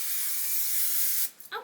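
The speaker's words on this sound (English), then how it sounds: "Just spray it, spray it, spray it, spray it" Hairspray misted onto flat-ironed hair in one long, steady close hiss from an aerosol can, ending abruptly, followed by a brief faint rustle.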